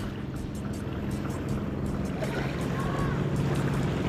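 Steady motor drone of a bangka boat's engine running across the water, close and continuous with a low throbbing pulse, wind and water noise mixed in.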